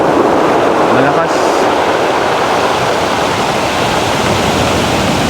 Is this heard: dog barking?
no